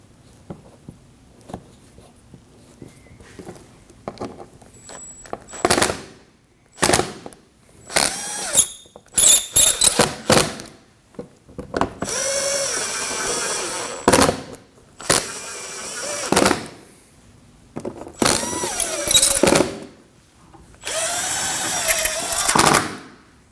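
Power driver fastening screws into a 2015-2024 Ford Edge front bumper cover, giving a series of sharp whirring and ratcheting bursts that vary in length, close and loud, with pauses between them and no talk.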